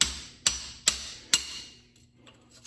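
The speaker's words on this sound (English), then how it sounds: "then tap it with the hammer on the other one" Four sharp metallic taps from a hammer on a car suspension spring held in a vise, spaced about half a second apart, each ringing briefly before fading into quiet.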